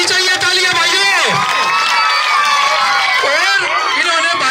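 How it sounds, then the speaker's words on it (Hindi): A large crowd claps and cheers at an outdoor village political rally welcome in Haryana, sustained and loud, while an amplified announcer's voice keeps talking over it. "तालियों में स्वागत कीजिए, रुकनी नहीं चाहिए तालियां भाइयों।"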